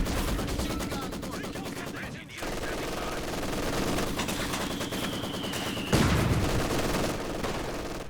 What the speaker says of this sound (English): Maxim going to go toe-to-toe with the machine gun through the center